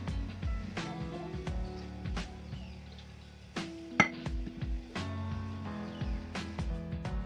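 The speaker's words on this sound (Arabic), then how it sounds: "راه غنبقى نخلط حتى يندمج ليا كلشي." Ingredients mixed by hand in a bowl with olive oil and honey, giving steady scraping and clinking of a utensil against the dish, with a few sharper knocks over soft music-like tonal background.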